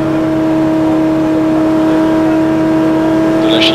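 A race car pulls out of the pits at the Bugatti circuit (4.3 km track), its engine droning in a steady, loud, sustained tone with strong harmonic whine and no talk over it.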